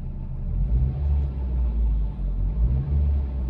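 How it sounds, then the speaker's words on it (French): A Hyundai Coupé engine idles with a low, steady rumble and slight swells in level, heard close and alone for a few seconds. "Le moteur tourne, vous l'entendez."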